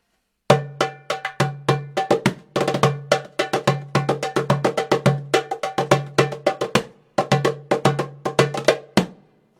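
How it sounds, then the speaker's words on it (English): A metal darabuka, a Middle Eastern hand drum, is played solo in quick rhythmic patterns of bright ringing strikes and low tones, close and clear, ending abruptly. "So that's the darabuka."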